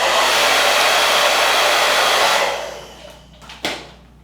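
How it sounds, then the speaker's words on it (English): A loud, steady roar from a hair blow dryer drying hair for a sleek ponytail runs for about two seconds, then cuts off and winds down, with a couple of brief handling knocks afterward. "I'm going to take my blow dryer and dry this."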